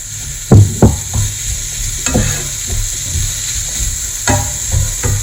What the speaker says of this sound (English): so I'm now going to add the pepper